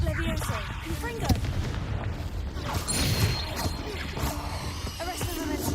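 A Confringo blasting spell goes off in Hogwarts Legacy, booming explosive bursts over a rumbling, crackling game soundscape with some creature-like roars, loud and dense the whole way through.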